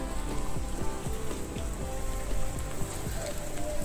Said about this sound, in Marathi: हे बघा, पाऊस तर इकडे चालूच आहे, बिलकुल विश्रांती घेत नाहीये.